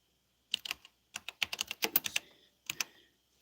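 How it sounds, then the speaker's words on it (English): Fingers tap out quick bursts of keystrokes on a computer keyboard, close and clear, in three short clusters with brief pauses between, otherwise quiet. "I'm going to type that in."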